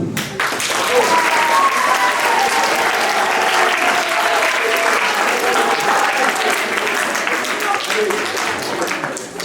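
Sustained, loud audience applause fills a school event hall marking a day against school bullying, with dense clapping throughout and faint voices mixed in beneath it.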